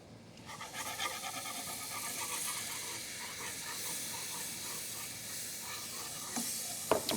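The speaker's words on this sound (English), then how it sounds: "We're going to add in our flour and give it a stir." Flour is stirred into melted butter in a pan, giving a soft, steady sizzle and hiss with faint scraping from the stirring, then a few louder knocks and clinks near the end.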